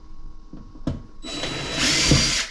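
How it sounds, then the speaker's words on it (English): A power drill pre-drills holes in a wall for a towel bar bracket, with a few small clicks and taps first, then a loud close whirring burst of drilling lasting just over a second. "I like pre-drilling, makes it easier."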